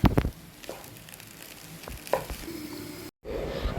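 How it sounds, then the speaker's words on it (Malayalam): Tomato rice with coriander leaves being stirred in a pan, soft scraping and a few spoon knocks over a low sizzle, with a brief cut near the end. "ഇതൊന്ന് ഇളക്കി മിക്സ് ചെയ്യാം"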